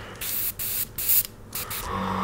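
Airbrush spraying paint onto a hand while painting a Lambda shuttle model, several short hissing bursts of spray broken by brief pauses, close and fairly loud.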